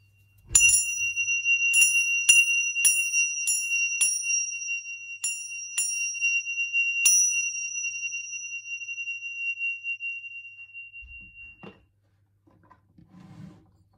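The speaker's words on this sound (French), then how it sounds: "je vais sonner un coup de cloche" A small bell rings out with a bright, metallic chime during a tarot card cleansing. There are several quick strikes in a row, and the tone rings on and fades slowly over about ten seconds in a quiet room.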